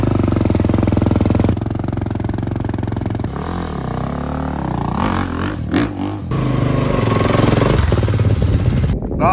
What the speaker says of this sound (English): We're gonna check out Scotty Scrub hitting some ramps on his new beta.